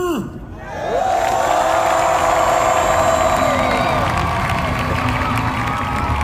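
A large crowd at a Korean national labor union rally shouts together in one sustained, loud roar lasting about five seconds, rising sharply after a brief lead-in and holding steady.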